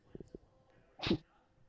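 A single short sneeze bursts out after a few soft breathy sounds, close and fairly loud.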